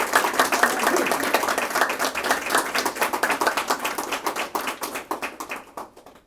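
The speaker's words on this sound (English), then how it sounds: "Could everybody give a round of applause to Margaret Kelly?" Audience applause at a storytelling book launch in a library, a dense burst of many hands clapping that gradually thins and fades out toward the end.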